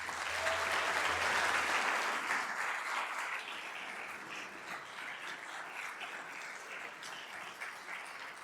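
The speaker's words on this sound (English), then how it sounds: "Ladies and gentlemen, one more round of applause for a welcome for Adrian Wojnarowski." A conference audience at the Jefferson Global Summit applauds to welcome a sports journalist on stage, with dense clapping that holds steady and eases slightly after the first couple of seconds.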